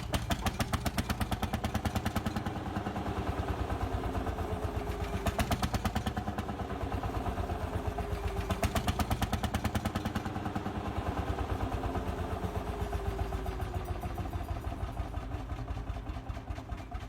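An antique two-stroke hot bulb engine, about 45 horsepower from 10.3 liters, with a horizontal cylinder and exposed flywheel, chugs slowly and steadily with a regular pulsing thump and clattering rhythm, moderately loud and continuous throughout.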